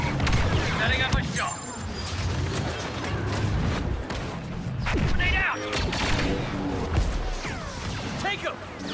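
Dense gunfire and explosions from the Star Wars Battlefront 2 video game, with rapid shots, booms and a grenade blast layered over constant battle noise, with someone speaking over it.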